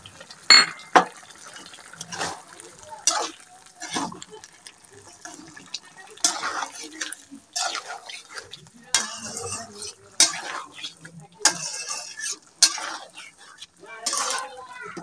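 Panch phoron spices fry in a pan for a vegetable spinach dish, with intermittent scraping and clattering stirring strokes over a quiet sizzle, close and repeated throughout.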